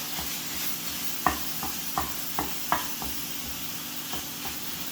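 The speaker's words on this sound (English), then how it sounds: "Ground beef coming along pretty nice, already starting to get brown. You can hear that sizzle." Steady, fairly quiet sizzling of ground beef frying in a hot pan, with occasional scraping taps of a utensil stirring through it.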